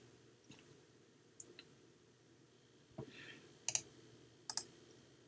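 Computer mouse clicking on a web page link: several sharp, faint clicks scattered irregularly over a quiet background hum.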